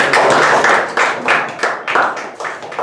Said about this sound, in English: Give a big round of applause to Toastmaster